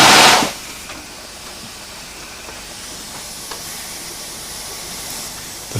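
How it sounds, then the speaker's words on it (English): Steam locomotive engine hissing steam steadily near at hand, with a loud blast at the start easing into a continuous hiss and faint metallic clanks. "The fire heats the water and makes steam."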